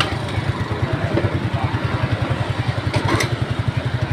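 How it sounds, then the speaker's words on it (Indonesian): Motorcycle engine running at a steady idle, a rhythmic low putter with light mechanical clatter, close and fairly loud with no talk. "kita hidupin motornya dulu, kita berangkat lagi ya."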